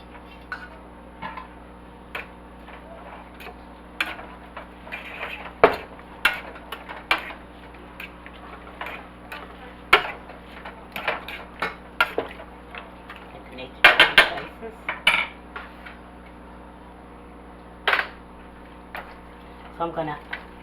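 A utensil mixing baked spaghetti ingredients in a dish, clinking and scraping against it in irregular close bursts, some sharp and loud, over a steady low background hum.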